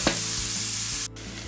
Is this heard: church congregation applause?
no